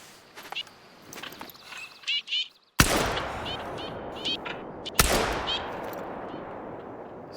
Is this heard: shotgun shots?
yes